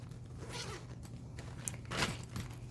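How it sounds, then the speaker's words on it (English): A zipper on a bag is pulled in a few short, faint strokes, with soft scraping and rasping close by in a quiet room. "And then we got a zipper here."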